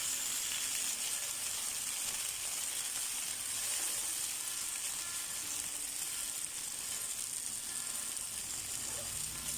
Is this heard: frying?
yes